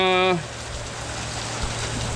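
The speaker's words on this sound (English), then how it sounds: "heavy rains that are supposed to last all day today and all day tomorrow" Heavy rain falls in a steady, dense hiss after a short tonal burst at the very start, continuing evenly at close range.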